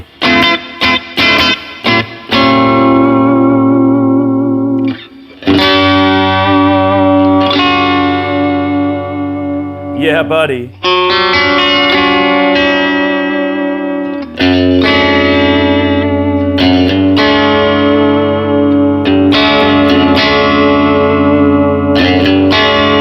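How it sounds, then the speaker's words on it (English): A loud, distorted 1967 Gibson Melody Maker electric guitar on its bridge pickup rings out sustained chords and riffs with heavy effects; a man briefly exclaims partway through. "the third position is just the bridge pickup, and it sounds a little bit like this"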